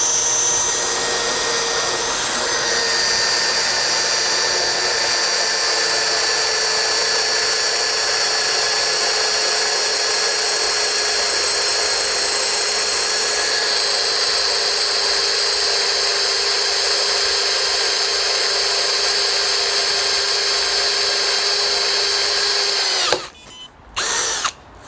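A SPESYN handheld drill press whines loudly and continuously at high speed, then abruptly cuts out near the end as it breaks through, followed by a few short clicks.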